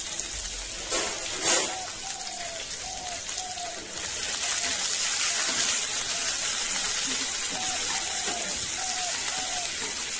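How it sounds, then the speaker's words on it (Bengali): Chopped onions fry in a pan until golden brown, giving a steady rain-like sizzle that grows fuller partway through, with a few light clinks near the start. "পেঁয়াজগুলো একটু গোল্ডেন এন্ড ব্রাউন হওয়া পর্যন্ত একটু ভেজে নিতে হবে"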